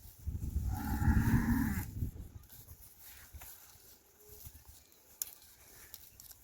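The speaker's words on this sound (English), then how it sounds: "This is a female Sokoto Gudali." A female Sokoto Gudali cow on a livestock farm in northern Ghana gives one loud, close moo lasting about a second and a half. Quieter farm background follows.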